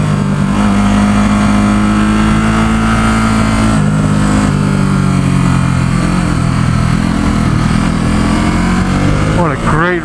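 A 2017 Ducati SuperSport S on twisty San Francisco roads, its engine loud and close, revving up and down in rising and falling pitch sweeps over constant wind rush.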